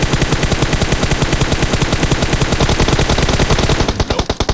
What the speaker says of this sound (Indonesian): itu headshot semua pelurunya